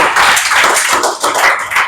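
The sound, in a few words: applause for student Abhishek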